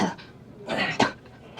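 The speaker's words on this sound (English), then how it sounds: "Cough." Someone gives a couple of rough coughs, like clearing the throat, close by and fairly loud.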